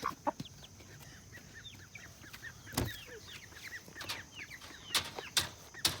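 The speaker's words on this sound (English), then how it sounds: "We got mama hen with a bunch of babies." On a farm, a mother hen clucks among a brood of chicks, whose many thin, high peeps chirp continuously while a few sharp knocks and clucks stand out, fairly quiet and close.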